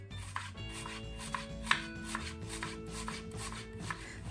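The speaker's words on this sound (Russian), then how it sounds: "И тоненько четвертинками нарежу лук." An onion sliced thinly into quarters on a board, a close, steady run of crisp knife chops at an even rhythm, with one sharper knock partway through and no talking.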